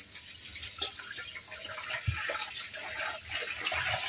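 Tap water runs into a bowl in a home kitchen, a soft steady splashing stream with small irregular bumps and clatters, faint and close, with no voices over it.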